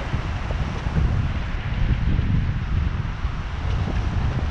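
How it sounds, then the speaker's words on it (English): Strong wind buffets the microphone with a constant low roar and rumble, gusting slightly louder at moments, no voices present. "It is very windy today."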